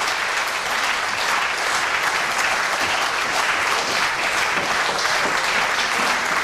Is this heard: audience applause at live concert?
yes